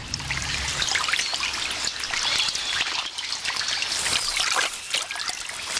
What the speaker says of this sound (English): The floods have driven the armadillo out of her burrow and into the swollen river to swim for her